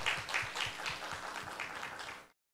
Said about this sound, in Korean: 박수로 초청해 듣도록 하겠습니다